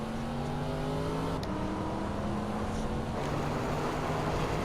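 Several race cars roar together in a racing video game, engines droning steadily at high revs with shifting pitches as the pack runs close, no talk.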